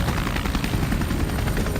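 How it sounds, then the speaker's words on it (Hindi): A Russian Ka-52 attack helicopter in flight makes a loud, steady, dense rotor roar with a rapid chopping texture, close and filling the whole clip. "पिछले साल मई की शुरुआत से ही जंग में रूस के Ka-52 हेलीकॉप्टर विनाश बनकर उड़ रहे हैं।"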